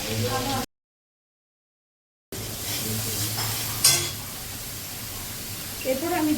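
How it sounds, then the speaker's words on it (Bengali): Onion paste and ginger paste sizzling in a hot pan while being stirred, a steady close frying hiss with occasional spoon scrapes, broken by a short silent gap, and faint voice moments around it. "আমি একটা গোটা পেঁয়াজ বাটা দিয়ে দিলাম"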